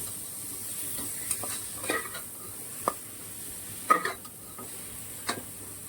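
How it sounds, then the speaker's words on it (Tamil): A handful of mint leaves sautéed in a pan for mutton biryani: a steady soft sizzle with occasional light stirring scrapes and clinks, no voices. "நல்லா வதங்கினதுக்கப்புறம் ஒரு கைப்பிடி அளவு புதினா போட்டு அதையும் சேர்த்து வதக்கிக்கலாம்."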